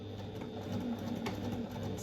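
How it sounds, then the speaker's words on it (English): A home sewing machine stitches fabric with a soft, steady motor whir and faint rhythmic needle ticking, quiet and continuous with no talking. "if you have a wide foot on your sewing machine"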